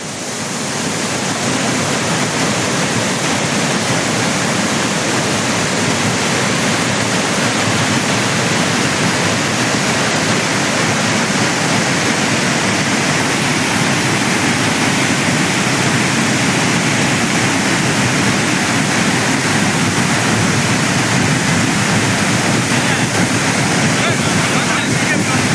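Palaruvi waterfall in heavy flow after rain, a loud, continuous, close roar of rushing water that stays steady throughout with no pauses.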